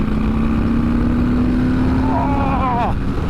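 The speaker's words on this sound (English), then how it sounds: "that is this big old Milwaukee 8 engine on here" A 2021 Harley-Davidson Fat Boy's big Milwaukee-Eight 114 cubic inch (1833 cc) engine runs with a steady, continuous rumble up close, while someone talks over it.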